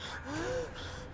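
A video game character gasps for breath in Metro Last Light, a single rising and falling breathy gasp over a steady background hum, fairly close with no talk.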